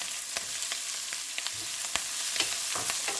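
Ginger, garlic, green chilli and onion fry in a pan with a close, steady sizzle, dotted with frequent small crackles and pops and light stirring scrapes.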